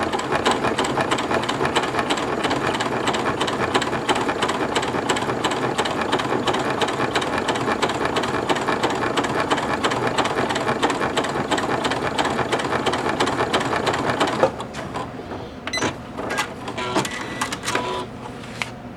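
A Janome MC9900 sewing machine stitches through thick leather in a steady, fast mechanical run, then stops near the end, leaving a few scattered clicks and handling noises.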